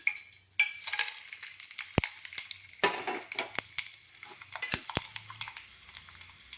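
Mustard seeds, chana dal, urad dal, cumin, fenugreek and curry leaves crackle and sizzle in three spoons of hot oil in a pot, with sharp pops and spatters over a soft frying hiss.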